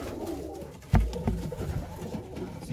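Pigeons in a loft give soft, low coos, with one fuller burst and several fainter murmurs following, close by over a quiet background.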